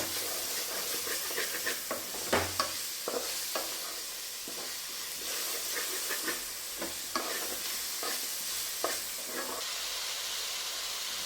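Tomatoes with salt sauté in a pan, a soft continuous sizzle broken by periodic spoon scrapes and stirring clicks, close but fairly quiet.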